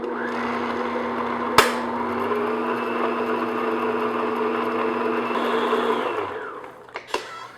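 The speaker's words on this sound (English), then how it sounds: "I'm just going to beat this on medium speed just to get everything mixed together" An electric hand mixer runs on medium speed through buttery shortbread batter in a bowl, a steady close whirring hum with a sharp clack at the start, then it winds down and stops, followed by a couple of light knocks.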